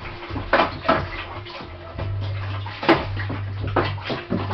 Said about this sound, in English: Put in the whole kilo of dextrose in, and just mix it. Just stir it, and just keep on stirring it.